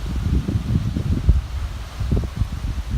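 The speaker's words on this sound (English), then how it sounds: "It's been very windy." Strong gusting wind from Hurricane Florence roars and buffets the microphone near the beach, a continuous rushing noise with rustling surges and no voices.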